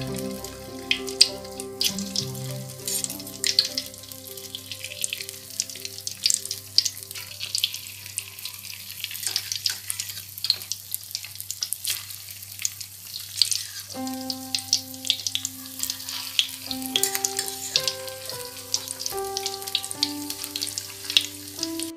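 Potato perkedel patties fry in hot oil, a steady crackling sizzle with sharp pops throughout, close by, with background music playing under it and no talk.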